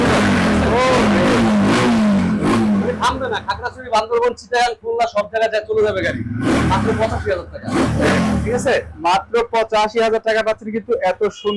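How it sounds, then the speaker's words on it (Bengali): A used motorcycle engine in fresh condition revs and idles close by while someone talks over it, the engine note rising and falling. "গাড়ির সাউন্ডটা কিন্তু একেবারে নতুনের মতো আছে"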